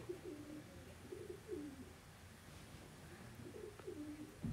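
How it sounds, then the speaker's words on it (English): Pigeons coo softly in a few short, repeated bursts from just outside a door, fairly faint against a steady low background hum, with no talking. "there's pigeons on like my door, so they're talking"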